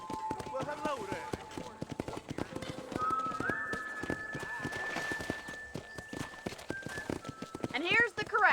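Horses' hooves clip-clop around a ranch corral in Red Dead Redemption, steady irregular hoof knocks under a man's and woman's ongoing conversation, with a horse whinny rising near the end.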